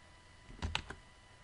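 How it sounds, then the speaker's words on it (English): A short burst of a few quick clicks from a computer keyboard as a name is typed into a website search box, close and fairly quiet against a faint background hiss, with no voice. "when you go to the search box and you type something in, okay, I'm going to type in my name"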